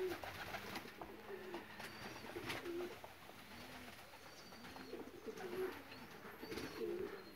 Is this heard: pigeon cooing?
yes